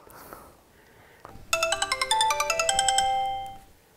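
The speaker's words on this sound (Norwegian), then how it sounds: "Det Ante Utsi som ringer." A telephone ringtone for an incoming call, a bright electronic melody of rapid repeated tones that starts suddenly after a brief soft knock and plays loud and close for about two seconds before fading out.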